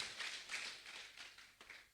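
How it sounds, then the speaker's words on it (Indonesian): Brief, fairly faint clapping from a church congregation during prayer, a soft flurry of hands that swells and tapers over two seconds. "Berikan tepuk tangan bagi Tuhan kita Yesus Kristus"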